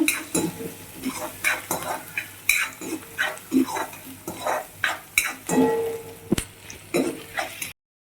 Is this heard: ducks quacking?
no